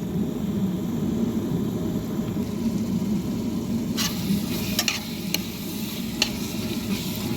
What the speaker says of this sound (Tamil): நல்ல ஒரு கிண்டுங்க.